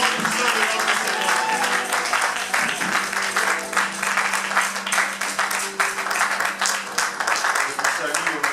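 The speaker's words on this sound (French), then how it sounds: "le serviteur de Dieu, le pasteur Aimé, avec nos applaudissements" Sustained applause from a church congregation fills the space, dense and steady throughout, with voices and cheering mixed underneath.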